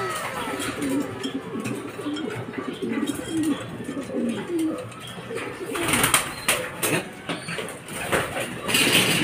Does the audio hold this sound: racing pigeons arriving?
yes